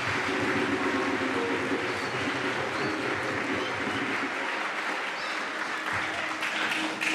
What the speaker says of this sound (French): Applaudissons fort pour le Seigneur.